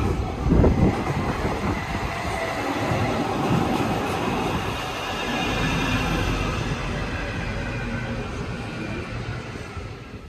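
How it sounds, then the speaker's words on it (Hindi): A tram pulls into a tram station in Germany, its wheels rumbling and clattering steadily along the rails for the whole stretch, fairly close and loud with no talking. "ये देखिए सामने से ट्रैम आ रही है"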